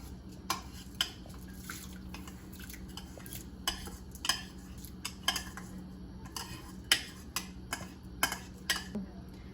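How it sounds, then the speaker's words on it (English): A spoon stirs rice into boiling milk for kheer, clinking irregularly against the metal pot in sharp taps and scrapes over a low, steady simmer. "now you just wanna stir it properly"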